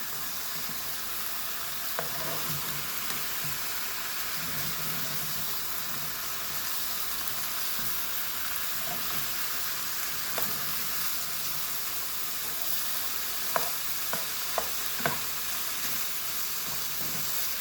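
Food sizzles steadily in a hot pan while it is stirred, with a continuous crackling hiss broken by occasional scraping clicks and taps from the utensil, no voices present.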